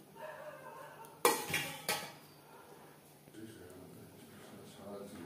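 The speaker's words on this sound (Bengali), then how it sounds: "গ্রেভির সাথে মাটন বেশ ভালো করে মিক্সড করে দেব।" A spoon knocks and scrapes against a pot while mutton is stirred into gravy for a potato mutton curry, with two sharp clanks early and then a low, steady background hum.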